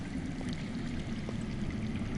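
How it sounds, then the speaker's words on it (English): Underground water runs in a steady, faint, continuous stream in the Telltale Game of Thrones video game, a soft trickling wash with no voices over it. "I hear water. From underground."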